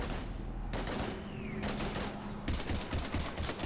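Sustained heavy gunfire in the Mass Effect 3 video game, a dense, continuous barrage of rapid shots with bursts layered over each other, loud and close throughout.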